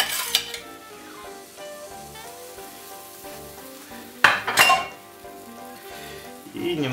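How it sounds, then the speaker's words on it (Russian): Butter crackling and sizzling in a hot frying pan, with a metallic clink partway through and a steady background hum. "На разогретую сковородку добавляем сливочное масло."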